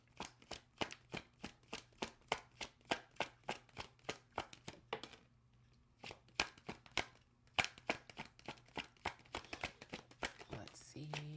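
Tarot cards are shuffled close up in a rapid series of crisp slapping riffles, pausing briefly partway through before the quick shuffling resumes, with faint speech in the background.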